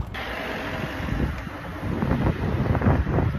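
Wind gusting outdoors on a warm spring day, buffeting the microphone with low rumbling bursts that strengthen toward the end.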